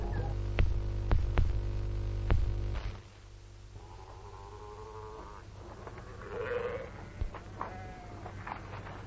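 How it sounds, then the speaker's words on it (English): Sheep bleat in a faint, wavering way in the open after a louder stretch of steady low hum with sharp knocks, the bleats coming in a few scattered calls with no voices over them. "Don't sheep always sound eerie?"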